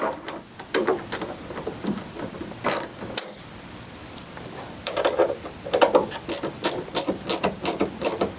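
Bursts of rapid ratchet clicking as bolts on mud flaps for a 2020+ Chevrolet Silverado 2500/3500 HD are snugged down, close and crisp, with short pauses between runs.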